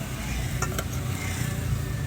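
Spicy salmon salad ingredients are tossed together by hand with lemongrass, chili, shallot, spring onion and coriander. It makes a steady, soft, wet rustling and clatter close by, with a couple of brief sharper clinks.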